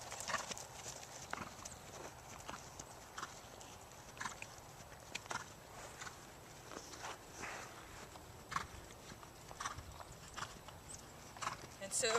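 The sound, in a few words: horse hooves cantering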